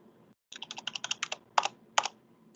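Keys on a computer keyboard clatter in a quick run of a dozen or so taps, followed by two firmer strokes, close and fairly quiet in a training room with no talking.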